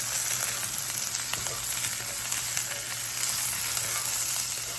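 Red, yellow and green peppers fry in a pan with a steady loud sizzle, broken by faint scraping and clatter as they are stirred, with no voices.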